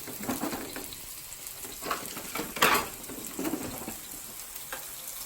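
Aubergines and onions cook in a pan, with a soft continuous sizzle broken by several brief scraping stirs and one louder clatter near the middle.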